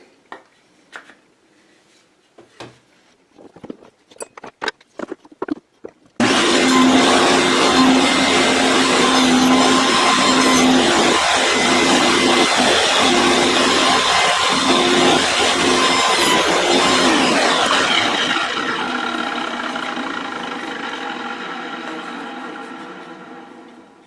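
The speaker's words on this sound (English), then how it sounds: "So we need to lower the blade a little bit and make that cut." Table saw blade cutting a shoulder into window wood, spinning up after a few scattered knocks and then running loud and steady for about eighteen seconds before winding down at the end.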